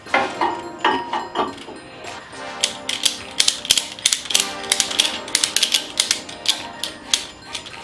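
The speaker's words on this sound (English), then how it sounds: "Wonder if I should strap it down." Ratcheting and clicking of a strap being cinched down over an engine part during an engine rebuild, a rapid series of close, sharp mechanical clicks and ratchet pulls repeating in uneven bursts, with no talk.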